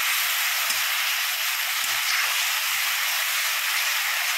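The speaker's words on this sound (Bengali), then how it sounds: "এবার আমি খুব ভালো করে কষাবো যতক্ষণ না তেল ছেড়ে আসে" Spice paste fries in hot oil for a raw jackfruit and prawn curry, giving a steady, dense, close hiss that holds evenly throughout with no voices.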